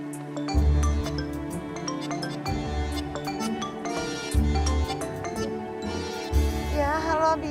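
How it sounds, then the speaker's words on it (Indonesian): A specially chosen mobile phone ringtone plays as a bright, repeating musical jingle with steady chiming notes and a thumping low beat, loud and continuous for several seconds with no talking over it. "soalnya ringtone-nya I buat khusus, madam, buat si Yasmin."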